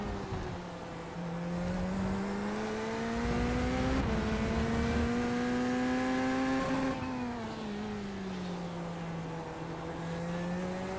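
A Porsche GT3 race car in the iRacing simulator at Road America: a loud, steady engine drone rises in pitch, shifts, then sweeps down as the car passes close by.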